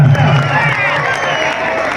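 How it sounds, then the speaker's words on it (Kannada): A crowd at a kabaddi final match in Tamba Dasara, cheering and clapping loudly for the two teams, Alvas and Chinchali. The roar is continuous and close, with voices shouting through it. "2 ತಂಡಕ್ಕೆ ಜೋರ ಚಪ್ಪಾಳೆ"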